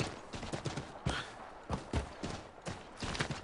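Hooves of a horse in Assassin's Creed III beat out a loose, uneven clatter of separate impacts, some sharper and louder than others, carried along for several seconds.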